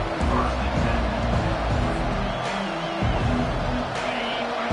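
A stadium crowd at a football game roars as a continuous broad, dense wash of noise, with a voice talking over it.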